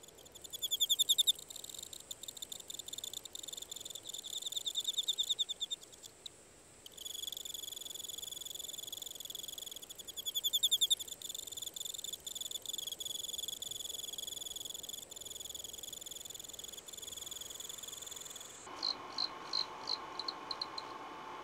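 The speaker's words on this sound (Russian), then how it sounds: "Полевые сверчки, наконец, нашли себе партнера для размножения." Field crickets chirp their autumn mating calls in a steady, high-pitched trill, pulsing in bursts and stopping briefly before resuming, close and alone, with no voices.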